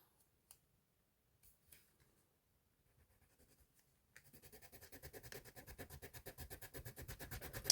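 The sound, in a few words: wax crayon scribbling on black paper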